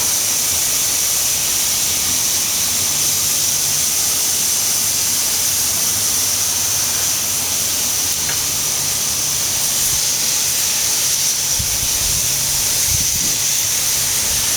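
Short ribs searing on a cast iron grill grate over coals, a constant loud hiss and crackle holding steady throughout with no voices.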